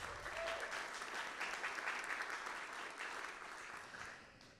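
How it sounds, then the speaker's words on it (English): Applause at an Innovation Awards Day keynote, a large audience clapping steadily for several seconds before the sound begins to fade near the end, heard from within the hall. "Another round of applause for the big team."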